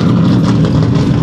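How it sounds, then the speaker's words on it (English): A deep, rumbling Ford Mustang engine with eight exhaust tips idles loudly and steadily nearby, its throaty exhaust burbling without pause. "Look at that loud ass Mustang, guys."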